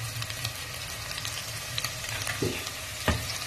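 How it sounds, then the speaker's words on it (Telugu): Mutton curry with garam masala frying in a pan, a continuous close sizzle with a couple of brief spatula knocks near the end. "ఇప్పుడు ఇది చిన్నగా వేపుకుందాం."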